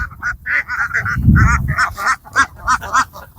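Ducks on a river island quack and honk in a rapid run of calls, loud and close, with a deeper rumbling burst midway through and no talk.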